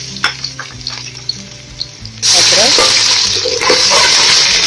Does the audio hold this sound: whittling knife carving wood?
no